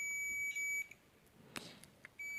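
Digital multimeter switched to its continuity buzzer range for testing an LED bulb driver, giving short high electronic beeps: a steady tone at the start, a brief click, then the tone returning near the end, close and alone.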